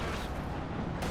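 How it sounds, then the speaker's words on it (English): A Panzer IV tank fires in the Company of Heroes 2 strategy game, a loud low boom with a rumbling tail that lasts about a second and is heard alone. "Panzer 4 firing, going straight for the Katyusha by the looks of it."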